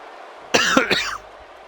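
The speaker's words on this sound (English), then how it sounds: "Sorry for my coughing." A single short cough, close and fairly loud, rising out of a quiet background and fading within about half a second.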